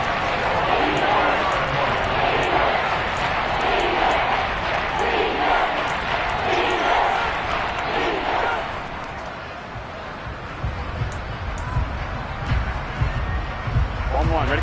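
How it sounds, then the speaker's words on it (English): A roaring stadium crowd at Arrowhead in a Bengals versus Chiefs football video game swells under a commentator's voice, then dips and surges back in a loud, continuous wall of noise. "this is where the Arrowhead crowd can make it very tough"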